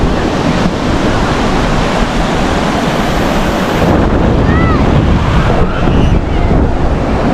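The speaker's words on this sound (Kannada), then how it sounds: "ಈ ವೇವ್ಸ್ದು ಸೌಂಡ್ ಕೇಳ್ತಾ ಇದ್ರೇ ಒಂದು ಮಜಾ ಬರುತ್ತೆ" Ocean waves wash continuously onto a Tamil Nadu beach, a loud, steady roar of surf mixed with wind buffeting the microphone, with no clear talk.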